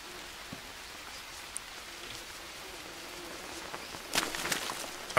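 Light rain in the video game Green Hell patters steadily on a surface, quiet and continuous, with a few sharper drips and a brief rustle near the end.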